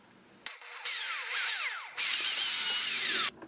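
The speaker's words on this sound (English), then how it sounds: "I'll place it in the vise, and I'm going to drill a hole all the way through." A drill bores through a homemade plastic pull handle held in a vise, giving two loud, close whining bursts whose pitch sweeps as the bit cuts, with a brief pause between them.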